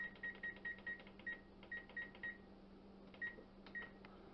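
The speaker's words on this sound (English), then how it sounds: "we'll set our oven up here for our timer, 11 minutes," An oven timer beeps in a series of short, evenly spaced tones while being set to 11 minutes for bacon. The tones pause briefly, then resume with a few more, faint and close by.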